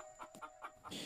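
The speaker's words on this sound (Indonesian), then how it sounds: "Itu adalah suara ayam yang pernah terdengar." Chickens cluck faintly in a quick run of short calls, sounding distant and thin against a quiet background.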